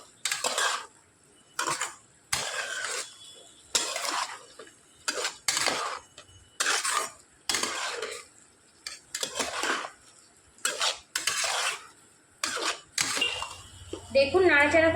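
A spoon stirs and mixes boiled atta snacks and vegetables in a pan, giving repeated scraping, clinking strokes in an irregular rhythm, close and fairly loud.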